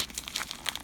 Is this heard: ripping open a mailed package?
yes